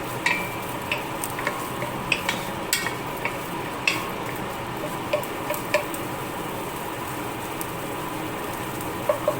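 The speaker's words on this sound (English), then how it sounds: "Sweat the fat out of the sausage a little bit." Sausage for gumbo sizzles in a pot, a constant close frying hiss punctuated by scattered sharp pops and ticks from a utensil moving it around.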